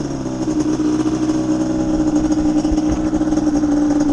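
A 397cc Banshee ATV engine with a 4mil setup runs steadily and loudly up close, a continuous throaty two-stroke drone with no voices over it.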